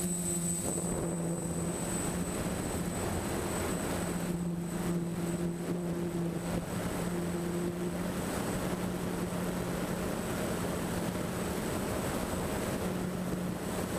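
A DJI F550 hexacopter drone flying at full forward speed gives a steady, dense propeller drone with tonal motor hums that shift slightly in pitch, joined by wind rush, loud and continuous throughout.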